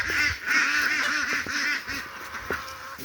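Ducks kept in their housing quack and honk repeatedly in a busy, overlapping chorus, close by and fairly loud, with a few sharper calls standing out.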